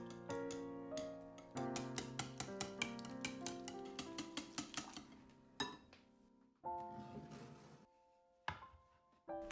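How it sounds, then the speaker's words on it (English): A whisk beats eggs with sour cream and nutmeg in a bowl for quiche Lorraine, making quick, quiet, rhythmic metallic clinks with short pauses between bursts. "Stir with a whisk."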